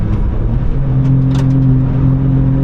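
A track car runs at full throttle on the Nürburgring, a loud, sustained engine roar heard from close by with a steady tone and a few brief higher noises, no speech.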